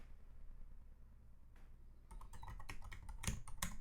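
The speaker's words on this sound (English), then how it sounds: "a little bit less of the keyboard clicks" Quiet room tone, then a burst of rapid computer keyboard clicks, irregular close-up keystrokes clattering for the last couple of seconds.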